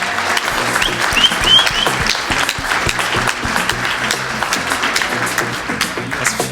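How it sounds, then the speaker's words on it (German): Enthusiastic audience applause at a science slam, dense continuous clapping from a live crowd that stays loud and even for the whole stretch, with a few brief whistles rising early on. "Applaus!"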